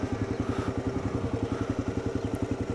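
A Kawasaki KLR650 single-cylinder motorcycle idles close by, a steady, even thumping rhythm with a slight mechanical clatter, alone without talk.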